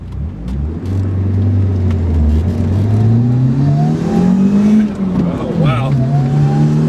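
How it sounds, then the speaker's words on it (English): Upgraded Cork Sport turbo on a Mazda 323 GTX with a larger Ford Probe intercooler spools up as the engine revs, a rising whistle over the engine note, loud and close, with an excited voice exclaiming over it. "When you hear the turbo spool, then it'll make power."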